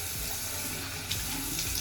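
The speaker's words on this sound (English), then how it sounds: "All right, now we're gonna rinse." Tap water runs steadily into a bathroom sink while a face is rinsed, a close constant splashing with a small bump midway and no talk.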